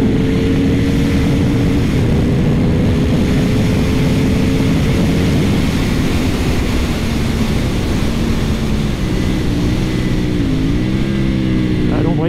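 A CFMOTO 450 SR motorcycle rides on a wet track, its engine a steady, loud drone with wind rush throughout, and the pitch shifts and wavers near the end as the rider changes speed.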